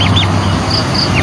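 Turkeys calling nearby, short gobbling squawks breaking over a loud continuous background hum.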